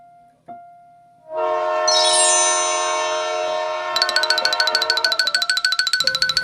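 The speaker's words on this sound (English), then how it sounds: "Train." A cartoonish train sound effect: a faint tap, then a sustained bright horn blast that swells in, followed by a fast rhythmic chugging pulse of the engine, loud and close.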